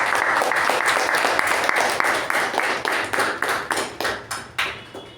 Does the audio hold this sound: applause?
yes